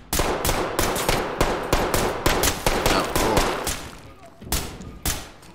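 Rapid bursts of automatic gunfire and single shots in the tactical shooter Ready Or Not, loud and close, repeating in dense volleys throughout with brief gaps.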